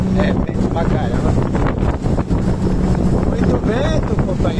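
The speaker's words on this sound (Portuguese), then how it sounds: "Muito vento, companheiro." Strong wind buffeting the microphone on a shrimp trawling boat, a loud constant gusty roar mixed with engine and water noise, while voices are heard underneath.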